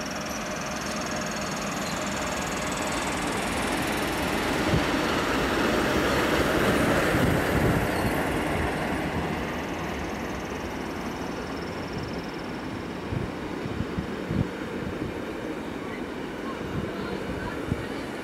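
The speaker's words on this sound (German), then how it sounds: "Und auch der Interregio fährt ab" Interregio train departing on the Gotthard line, a steady rumbling roll with a broad hiss that swells in the middle and eases off, with faint clanks of the wheels toward the end.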